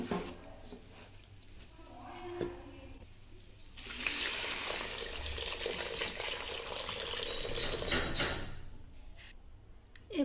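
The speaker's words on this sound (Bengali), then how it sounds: "আমি আগে থেকে গরম করে রাখা জল, চাল যতটুকু নিয়েছি তার দ্বিগুণ মাপে আমি জল দিয়ে দিব" Hot water, measured at double the amount of rice, is poured into a pot of rice for Bangladeshi ilish polao, making a steady splashing gush that runs for several seconds after quieter kitchen sounds.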